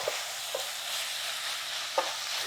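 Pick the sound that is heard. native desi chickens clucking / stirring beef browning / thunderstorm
stirring beef browning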